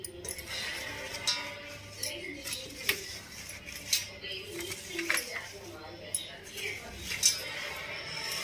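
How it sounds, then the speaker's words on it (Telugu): A spoon clinks against a bowl as homemade potato french fries are tossed with salt and pepper, light scattered taps and scrapes at a slow uneven rhythm under a quiet talking voice. "కొంచెం పెప్పర్ వేసుకొని వీటిని మంచిగా కలుపుకోవాలి."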